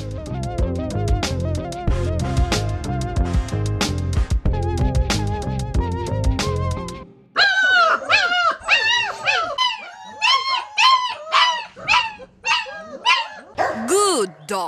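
A dog barks and whimpers in a series of sharp, close yelps and whines after several seconds of loud background music.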